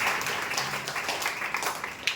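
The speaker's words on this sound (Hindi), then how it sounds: "आइए हम लोग ताली मारेंगे" A church congregation claps together in a steady, dense patter of many hands, moderately distant and continuous with no talk over it.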